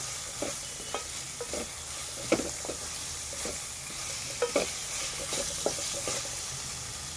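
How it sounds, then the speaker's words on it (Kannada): Ginger garlic paste and green chillies being stirred in a hot pan for a dhaba-style achari paneer masala: steady soft sizzling with repeated spoon scrapes and clicks against the pan, close and without talk. "ಎಲ್ಲನೂ ಚೆನ್ನಾಗಿ ಮಿಕ್ಸ್ ಮಾಡ್ಕೋಬೇಕು."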